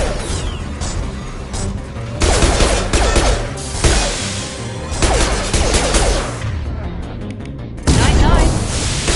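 Dense, loud gunfire and explosions in the Mass Effect video game on PS5 keep up in sustained bursts and booms, with a voice talking over the fighting.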